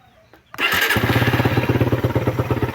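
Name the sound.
motorcycle engine starting and idling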